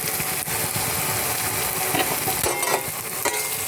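Onions and salt frying in a pan are stirred briskly, the loud close sizzle overlaid with repeated scraping strokes of a spoon for a few seconds, with no voice.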